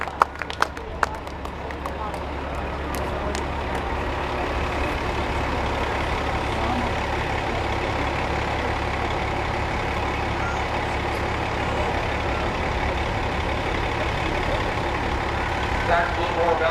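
Buses sit idling at a veterans parade in Northwest Iowa, a continuous low engine rumble with crowd noise and a few sharp claps near the start, under an announcer's voice.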